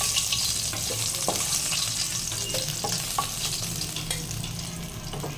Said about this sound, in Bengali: এখানে এই মাছের কাঁটাটাও ভাজা হয়ে গেছে